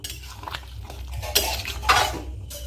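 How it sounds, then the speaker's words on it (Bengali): A utensil stirs vegetarian aloo dum, a potato curry sprinkled with roasted ground spices, in a pan. It gives close scraping and clinking, with two sharper metallic scrapes standing out over a low background hum. "নেড়ে নিচ্ছি।"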